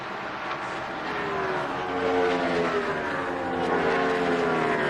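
NASCAR Winston Cup race cars roar around Chicagoland Speedway at the Tropicana 400, a loud sustained engine drone with rising, overlapping tones as the pack passes, heard from a distance.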